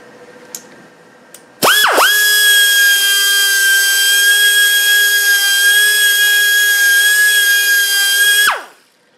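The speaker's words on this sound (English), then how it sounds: "So let's grind it out." A power grinder grinds out tack welds on a clutch bush kit, starting at about 1.6 seconds with a sharp spin-up whine, then holding a loud, steady high-pitched tone for around seven seconds before spinning down.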